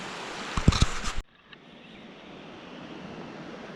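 Water rushes below the 184-foot Nottely Dam on the Nottely River as a steady, broad roar. A brief louder burst of thumping noise comes first, then the even rush continues alone.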